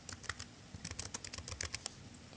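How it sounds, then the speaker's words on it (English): A title being typed on a computer keyboard, quick irregular bursts of close, light keystrokes with brief pauses between clusters, quiet and alone. "So I would just type that in here."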